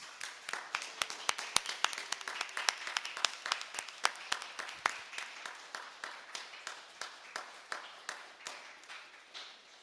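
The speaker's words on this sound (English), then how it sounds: "please join me in a huge round of applause for Reverend Maggie." Audience applause for a church volunteer during a volunteer appreciation service, a steady patter of many hands clapping that continues for about ten seconds at moderate volume, gradually thinning toward the end.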